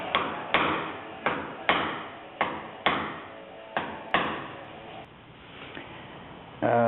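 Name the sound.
hammer on a 2x4 against a car door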